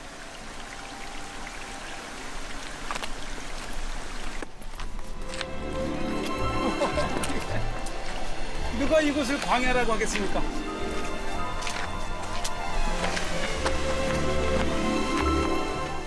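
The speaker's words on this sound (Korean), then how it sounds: "시원하게 떨어지는 폭포수." Steady rushing water from a waterfall in the Dead Sea desert region of Israel pours continuously in the background while someone speaks over it, the roar swelling slightly partway through.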